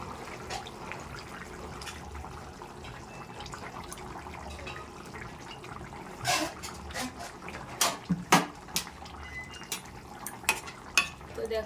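Kitchen clatter as eggs are added to a pan of hilsa curry cooked with cumin paste: steady low sizzling with a few sharp utensil knocks and clinks in the second half, close and fairly quiet.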